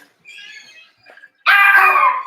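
A few dogs bark in a short, loud, close burst at the end, after some quieter whining and yelps, in a home setting with no talk over them.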